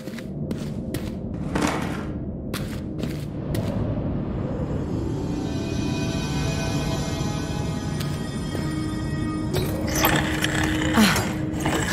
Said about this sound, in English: A machine for loading shells.